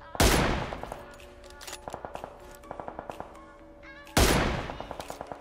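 Gunfire in PUBG Mobile, first-person mode: two loud, close gunshot blasts about four seconds apart, with rapid bursts of lighter automatic fire crackling steadily between them.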